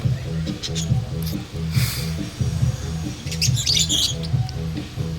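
A stressed pet bird squawks and chirps in short repeated bursts over a steady low rhythmic hum, with scattered high-pitched calls.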